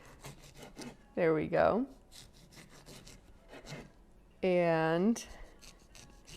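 A serrated knife saws through a lemon in two short, rough rasping bursts, close and loud. A voice speaks briefly between the strokes.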